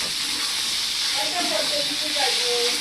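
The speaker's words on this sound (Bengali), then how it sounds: "এটা একটু কষাই নিতে হবে, কাঁচামরিচ দিয়ে দিলাম।" Fish curry with green chilies frying in a pan, a steady close hiss and sizzle running throughout with faint stirring, no voices.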